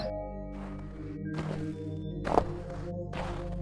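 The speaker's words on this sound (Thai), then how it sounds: "จู่ๆผมก็ได้ยินเสียงฝีเท้าของใครบางคน ย่ำลงไปที่หิมะ" Footsteps crunch slowly through snow as a horror sound effect: three heavy, spaced steps sound over a low, eerie sustained drone, with no voices.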